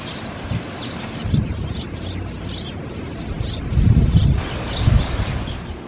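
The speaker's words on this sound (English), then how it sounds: "The wind is blowing and it's cool, even with the sun shining." Wind blows through a garden on a cool, sunny late-June day, a soft steady rush with gusts of rustling foliage, while small birds chirp lightly in the background.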